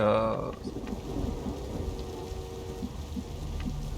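Thunderstorm with rain in the video game XCOM 2: a steady wash of rainfall with low rumbling thunder, fairly loud and continuous with no voices.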